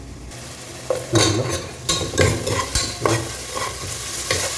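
Beef gravy with potatoes is stirred and mixed in a sizzling pan, a spoon dragging and scraping in several distinct strokes over a steady frying hiss.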